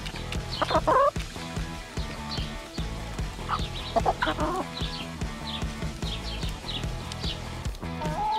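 Several chickens clucking and squawking close by in repeated bursts on a New Zealand lifestyle block, with a faint background hum throughout.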